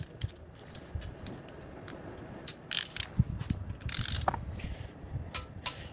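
A torque wrench tightens a bolt on a VW Parati 2.0 AP engine during assembly, giving repeated sharp ratcheting clicks in uneven bursts, close and fairly quiet, with no talking.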